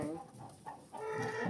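Chicken clucking in a brief, close burst, with steady background noise around it.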